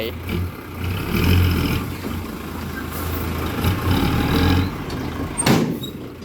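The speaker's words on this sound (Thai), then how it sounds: "นี้ก็ขับรถไถอีก" A farm tractor drives back and forth packing down ground at a pig farm work site, its engine rumbling close and steady with some clanks, while people talk over it.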